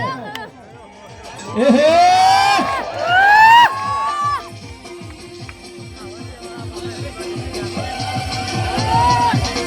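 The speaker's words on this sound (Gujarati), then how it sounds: "તાળીઓના ગડગડાટથી વધાવો." A crowd at a welcoming ceremony for guests breaks into loud cheering, whoops and excited shouts that swell, peak, then settle into a steady hubbub of chatter and voices.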